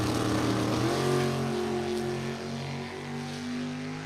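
Ford Mustang drag racing at a Top Sportsman event, its engine a loud, sustained roar with a pitch that climbs and shifts as the car accelerates down the strip.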